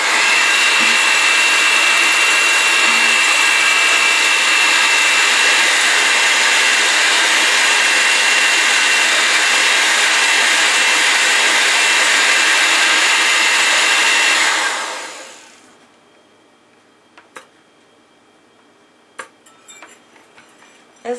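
Electric hand mixer whipping egg whites with a few drops of lemon or vinegar, a loud steady whir running about fifteen seconds before winding down, followed by scattered light clicks of the beaters against the bowl.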